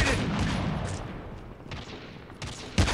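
Gunfire from the Call of Duty Mobile video game in a sniper-only Killhouse match, a few sharp shots and bursts cracking over a dense wash of game noise, with a loud shot near the end.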